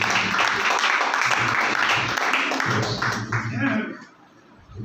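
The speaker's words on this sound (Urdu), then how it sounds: "اور خدا ان کے بندہ کے لیے زوردار تالیاں ہو جائیں" Loud applause from a church congregation during a service, steady hand clapping mixed with voices, fading out toward the end.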